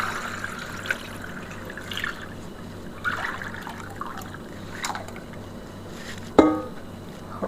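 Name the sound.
sour grape juice (verjuice) strained through a fine sieve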